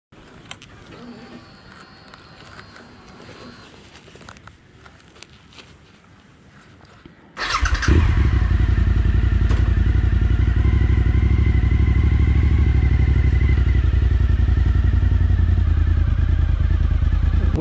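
A Suzuki SV1000 motorcycle engine roars in loudly after several seconds of quieter rumble, then holds a strong, sustained drone close to the listener as the bike is ridden.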